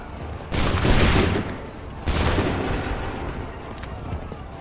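Soldiers' musket volley in Assassin's Creed 3, two loud crackling bursts of massed gunfire about a second and a half apart, each trailing into rumbling echo over background battle noise.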